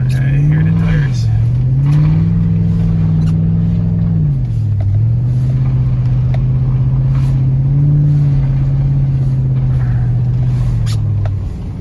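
A 2007 Chevy Suburban Z71 power sliding on a snowy road at up to 60 mph, its engine droning loud and steady, rising and dipping in pitch through the slides.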